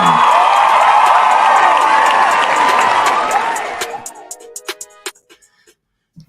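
Recorded clap track of audience applause and cheering, a loud, dense burst of clapping with whoops that tapers into a handful of scattered individual claps before falling silent.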